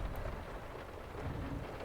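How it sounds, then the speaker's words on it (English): Heavy rain pours steadily onto a car during a thunderstorm, a dense, continuous broadband wash with a low rumbling undertone and no voices. "We should get stuck in the rain more often."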